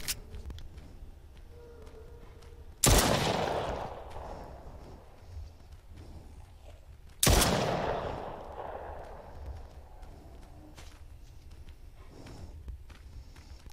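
Two loud gunshots in a PSVR wave shooter video game, each a sharp crack with a long decaying tail, spaced about four seconds apart over a low steady background.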